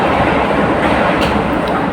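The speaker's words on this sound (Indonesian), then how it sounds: "Maaf ya guys, ada suara apa kereta, karena posisi rumah kebetulan dekat sama rel kereta api." A train passing on a railway line right beside a house gives a loud, continuous rumbling roar that stays steady throughout, with no talking over it.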